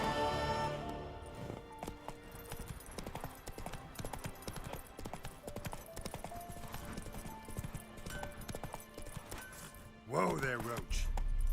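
Roach, a horse in The Witcher 3, trots with a steady clip-clop of hooves under continuous game music and ambience, ending in a brief louder burst near the close.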